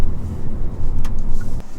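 Steady low rumble of road noise inside a car with a 1.6 engine on a rough road surface, loud and continuous, with a couple of brief knocks and bumps.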